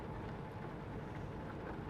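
Steady rain falls in American Truck Simulator, a soft continuous wash of noise with no distinct drops, heard faintly and alone while a truck drives through Missouri.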